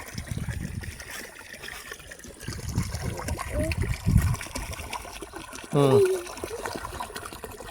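Water trickles and flows steadily from an irrigation outlet in a village farm field, a low continuous splashing heard nearby while people talk over it.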